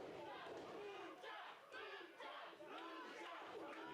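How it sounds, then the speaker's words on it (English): Wrestling audience at an independent pro wrestling show, rhythmic chanting and shouting in repeated bursts, somewhat distant and faint. "You hear the crowd getting amped up for Lucha Legion"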